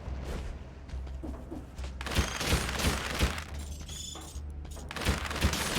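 Game effects from the action platformer Dead Cells: a dense burst of crashing, shattering impacts with several sharp thuds and cracks from about two seconds on, over a steady low rumble of background game audio.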